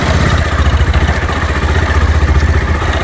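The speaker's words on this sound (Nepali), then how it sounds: "बाइक अफरोडमा कुदाउन गाह्रो छ।" Motorbike engine chugging close by while riding off-road, a loud, rough, pulsing rumble with a steady rhythmic throb over about three seconds, no speech.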